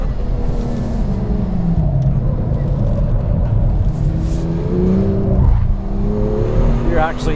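A BMW M2 drives through the corkscrew at Laguna Seca, its engine a loud, continuous rumbling drone that rises and falls with throttle and gear changes, with someone talking over it throughout.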